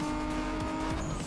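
Turbo car engine in the Need for Speed racing game, a steady loud drone with rising and falling revs across gear shifts, a brief whistling note near the end.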